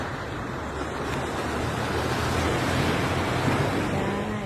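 Morning surf rolls onto a sandy beach in a steady, even wash of breaking waves, with light wind noise across the microphone and no voices.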